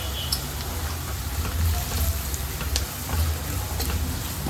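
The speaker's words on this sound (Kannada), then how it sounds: "1 ಚಮಚದಷ್ಟು ಧನಿಯಾ ಪುಡಿಯನ್ನು ಸೇರಿಸ್ಕೊಂಡು ಎಣ್ಣೆಯಲ್ಲಿ ಫ್ರೈ ಮಾಡ್ಕೊಳ್ಳೋಣ" Sambar powder, roasted cumin powder and coriander powder fry in hot oil for a Malabar spinach curry, a steady close crackling sizzle that rises and falls slightly, with no talking.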